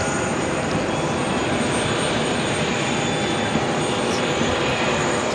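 Jet noise from a Boeing 777-300ER at JFK holds as a constant, dense engine rumble and hiss throughout, fairly loud and close, with no speech over it.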